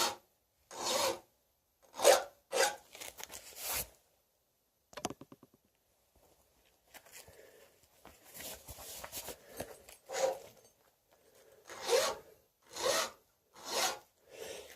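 A file rasps against a chainsaw chain in short, rhythmic strokes, pausing between sets, with faint handling noises in the gaps.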